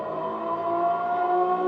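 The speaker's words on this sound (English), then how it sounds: "Down to third, keep the revs high when you can." A Renault Megane race car engine revs high on track, a sustained, loud, steady harmonic whine held close up.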